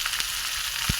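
Cabbage pieces frying in hot oil in a pan, a steady close sizzle with a few brief crackles and no voices.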